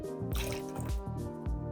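Stolichnaya Elit vodka glugs from a hard-to-pour bottle into a jigger in a few uneven, close bursts of liquid, with a faint drip between pours.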